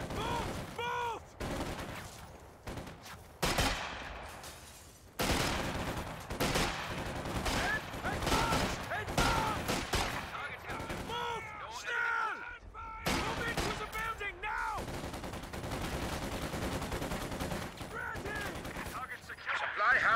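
Rapid bursts of machine-gun and rifle fire from a Company of Heroes 2 battle against an AA halftrack crack out loud and close, volley after volley with short gaps, mixed with shouting voices.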